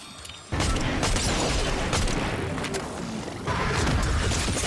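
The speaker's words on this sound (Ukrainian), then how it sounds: "То це, це ти з вибухом стріляєш." Explosive gunfire in Fortnite erupts after a brief quiet moment, a dense, loud barrage of booming blasts and crashes that surges again near the end.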